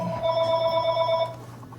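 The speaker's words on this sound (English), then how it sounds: "I'm getting phone calls" Telephone ringing in a home kitchen, a steady electronic trill lasting just over a second before cutting off.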